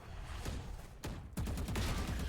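Rapid bursts of gunfire ring out in a Valorant esports match, in a quick volley followed by a louder, denser burst.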